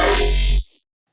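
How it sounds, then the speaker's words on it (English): Scary monster-growl dubstep bass synth made in Serum, a loud, thick, gritty sustained roar with heavy sub-bass that holds for about half a second and then drops off sharply. "And a scary monster growl with 2 votes is on the third place."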